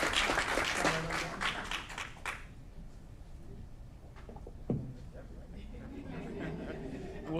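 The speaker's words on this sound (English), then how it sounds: "Let's give her a round of applause." Clapping at a city council meeting in Aurora starts fairly loud and fades within a couple of seconds into quiet room murmur, followed by a sharp thump and soft voices.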